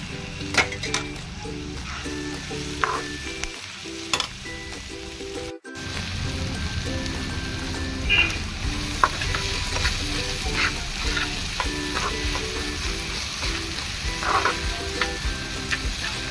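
Tomatoes sizzle and fry in a pan of bottle gourd chutney, a steady loud hiss with spoon stirring and scraping throughout, no talking.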